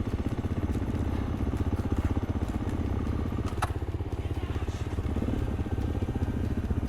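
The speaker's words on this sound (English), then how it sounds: "as you turn the starter motor, just crack the throttle" A motorcycle engine on an off-road trail ride fires and runs with the throttle cracked open, giving a steady, loud, rumbling idle with slight crackle and clatter throughout, close by and with no talk.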